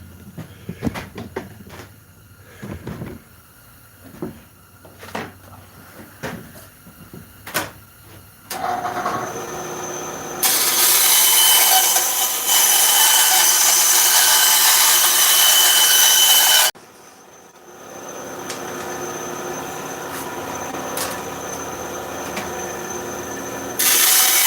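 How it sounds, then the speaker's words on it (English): A small tabletop bandsaw rips slices from a piece of wood: light clunks and handling first, then the saw runs in a loud, steady, harsh whine for several seconds, drops out briefly and resumes at a lower level. "Little old tabletop bandsaw here. We'll rip these slices off here real fast."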